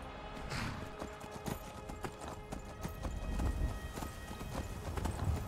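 A stolen horse in Skyrim gallops with rapid, rhythmic clip-clopping hooves, steady and fairly quiet, with a brief whinny-like tone early on and a low rumbling game ambience underneath.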